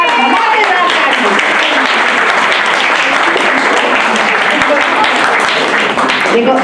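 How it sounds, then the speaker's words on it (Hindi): Loud, dense audience applause for a performer at a musical tribute event, a continuous roar of many hands clapping close by with voices and cheers mixed in throughout. "अब मेरी मीनू के लिए भी कस के जोरदार धमाकेदार ताली।"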